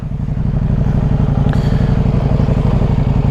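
A motorcycle fitted with Michelin Road 6 tires and loaded with a rack and bags rides on a wet road, its engine giving a loud, steady pulsing thrum close by.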